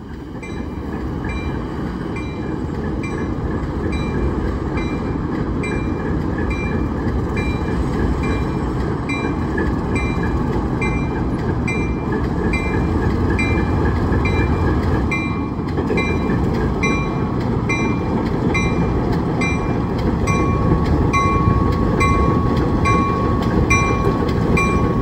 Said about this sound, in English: listen as this ancient ALCO really gets put to work, as they pull out to re-spot the unloading tracks